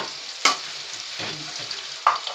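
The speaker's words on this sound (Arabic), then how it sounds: "انا ما بحمرش البصل، انا بشوحه بس لانه هيديني تسكيره حلوه قوي" Onion sautéing in a pan makes a close, steady sizzle, with a couple of sharper scraping stir sounds cutting in.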